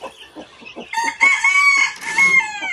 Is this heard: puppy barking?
no